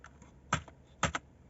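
Keystrokes on an old computer keyboard, a few light taps followed by two sharp, clacky presses and a quick double press, close and isolated in a quiet room.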